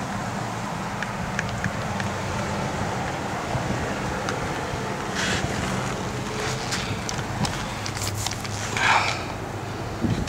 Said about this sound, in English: When that wind blows,